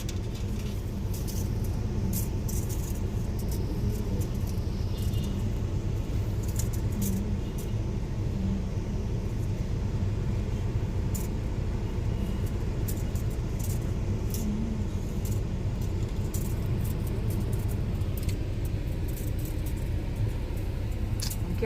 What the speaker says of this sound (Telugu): అటు బండ్లు వస్తున్నాయి